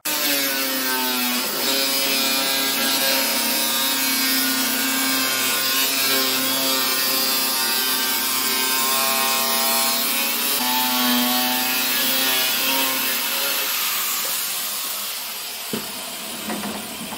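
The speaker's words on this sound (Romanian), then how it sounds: "pentru tăieturile pe lung, voi folosi acel flex cu un disc tot de la Bosch, care se laudă că taie și parchet." An angle grinder fitted with a Bosch disc cuts parquet lengthwise, giving a loud, steady whining drone with a slight rasp that holds for most of the time, then winds down near the end, with no talking.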